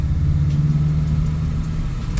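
A 2022 Volkswagen Golf 8 GTI hot hatch drives at speed, its engine giving a steady, loud low drone and rumble from inside the cabin with no pauses.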